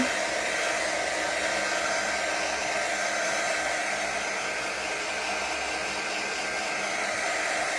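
Hair dryer drying a painted chalk craft round door decoration, a steady close rushing blow holding even the whole time, no voices.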